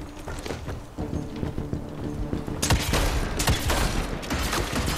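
Gunfire in the video game Evil West, heard as a burst of sharp shots and impacts over a busy game soundtrack, getting louder and denser in the second half.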